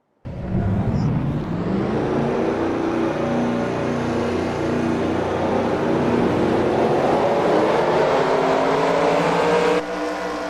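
A dense roar of many race car engines revving together in a racing video game at the start of a race, loud and sustained throughout with no talking.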